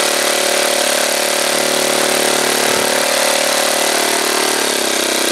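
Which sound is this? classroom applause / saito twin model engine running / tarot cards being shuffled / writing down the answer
saito twin model engine running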